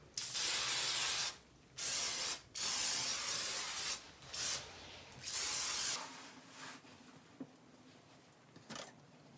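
Oil sheen hair spray hisses out in several close, strong bursts of about a second each, with short gaps between them, followed by quieter rustling.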